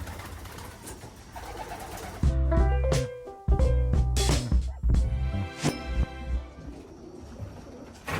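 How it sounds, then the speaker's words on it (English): Pigeons cooing inside a loft, soft layered coos from several birds close by, with some clatter and rustling of movement around them. "we gotta do is get all these birds, put them out in the aviary"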